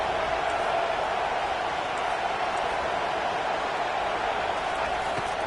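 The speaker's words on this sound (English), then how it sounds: "This crowd is trying to inspire this defense to make a big red zone stop." A large football stadium crowd roars during a red zone defensive stand, a dense and steady wall of noise that holds at the same loud level throughout with no breaks.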